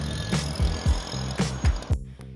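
A mist blower sprayer whose booster is failing to supply runs close by with uneven, thumping engine pulses that stutter and repeat over a rough mechanical rattle.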